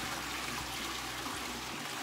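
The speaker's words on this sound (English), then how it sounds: "I'm gonna flush it again because the lime scale keeps dropping down there" A household toilet being flushed while lime scale is cleaned from the bowl gives a steady, fairly quiet rush of water with a broad hiss throughout and no talk.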